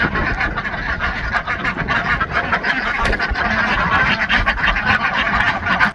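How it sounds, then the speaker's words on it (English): A flock of ducks quacks loudly and continuously inside a barn in winter, close by, with overlapping nasal calls and scuffling movement and no clear speech. "Oh, good ducks."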